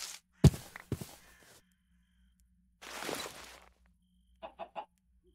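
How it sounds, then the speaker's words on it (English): Minecraft chickens cluck in a few short bursts: a cluster of sharp clucks near the start, a longer scratchy stretch midway, then three quick clucks at the end, fairly close with silence between. "So many chickens."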